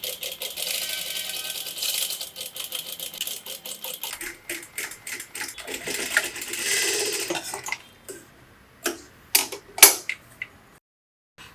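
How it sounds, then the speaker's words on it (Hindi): A sewing machine stitches a four-dart blouse in a steady rapid run for several seconds, then slows into short separate bursts and clicks before falling silent. "धीरे धीरे एग्जैक्टली फ्यूजिंग के पास हमें स्टिच लगानी है"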